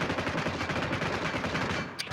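Rapid automatic gunfire rattles continuously in the mobile game PUBG Mobile, loud and close for about two seconds before cutting off abruptly.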